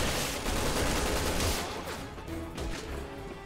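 Gunfire in the video game Resident Evil 6, a dense burst of rapid shots and crashes filling the first second and a half, then thinner scattered shots and rumbling effects continuing at a steady loud level.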